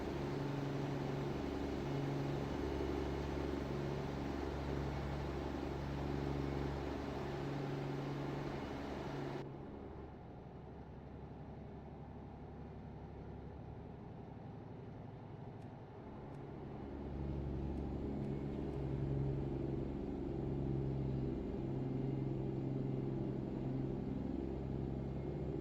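A truck engine in American Truck Simulator drones in a steady low rumble with a throbbing hum, dropping to a quieter idle partway through before swelling back to full, loud and continuous.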